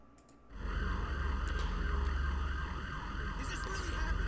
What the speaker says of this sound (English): I hear the police car coming.